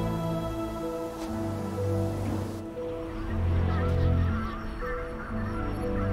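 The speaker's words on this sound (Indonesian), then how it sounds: "ini kita di antara para angsa-angsa" Geese honking in the game Ori and the Will of the Wisps on Nintendo Switch, a flock of repeated honks layered over steady game music and ambience, with no talk.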